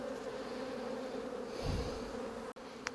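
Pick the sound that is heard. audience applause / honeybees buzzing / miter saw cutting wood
honeybees buzzing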